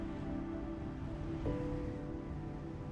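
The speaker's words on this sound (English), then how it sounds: "the sound that carries loudest isn't wind, but water the Voidomatis moving far below" Rushing water of the Voidomatis river far below in a deep gorge whose canyon walls reach nearly 3,300 feet, a steady, even broadband roar heard from high above, distant and unbroken for the whole stretch.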